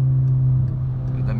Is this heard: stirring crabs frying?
no